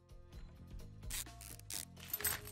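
Metal scraping and rubbing as a nut and washer are worked off a bolt on a truck, with short gritty scrapes and small clinks close by, fairly quiet and without talk.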